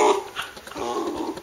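Wire fox terrier dog singing, letting out short whimpering, yipping howls in quick bursts, close and fairly loud.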